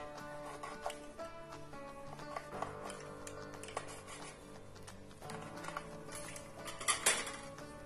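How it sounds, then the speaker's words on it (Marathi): Knife or cutter cutting rolled sesame karanji dough on a kitchen surface, a scatter of light ticks and taps at close range, uneven in rhythm, sharpest near the end, over faint background music. "चाकूने किंवा तुम्ही कटरने कट करून घेऊ शकता"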